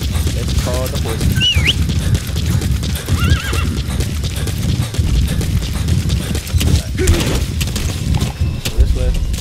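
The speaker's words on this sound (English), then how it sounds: "Let's call the horse." A horse called in the video game Metal Gear Solid 5: The Phantom Pain, with clopping hooves and neighs over game noise and occasional booms, while voices talk alongside.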